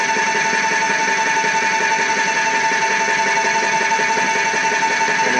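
A Graco 390 PC airless paint sprayer runs while priming, a loud steady mechanical drone with tonal whine that stays constant throughout, close by with no speech.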